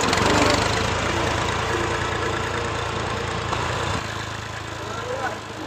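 A tractor engine runs close by with a steady low rumble and throb that drops slightly near the end, while a voice talks faintly underneath.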